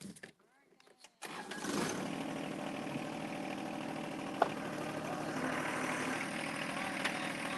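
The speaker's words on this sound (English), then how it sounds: "I'm going to start the tractor again." A tractor engine cranks briefly after a short quiet spell, catches, then settles into a steady rumbling idle nearby, with a sharp click partway through.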